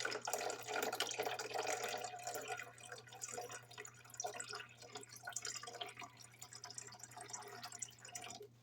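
Distillate dripping steadily from a homemade still, a continuous patter of small drops with a low electrical hum beneath.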